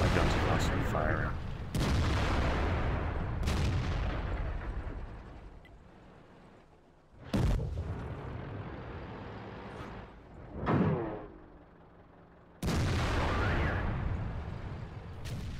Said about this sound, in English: I just want to make sure that my guns are constantly firing.